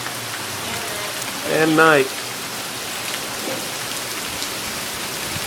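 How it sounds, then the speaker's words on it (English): Steady rain falling on a rainy day, a dense, even hiss that runs through the whole stretch, briefly under a short spoken phrase from a person. "It's been raining all morning"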